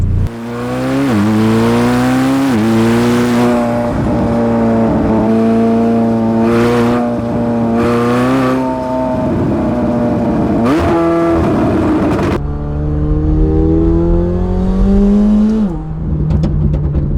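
A McLaren 720S engine revs hard in long sustained pulls with shifting pitch while the tires spin and lose traction, loud and close throughout with brief dips between revs.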